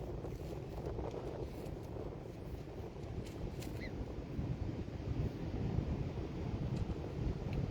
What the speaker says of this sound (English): Please bear with me in this wind.